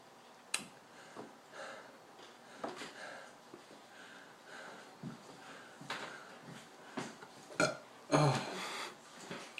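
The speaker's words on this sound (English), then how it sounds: "burping is not pleasant." Several short, throaty burps after eating scorpion peppers, scattered across a quiet stretch, with a louder, rougher burst near the end; no talking.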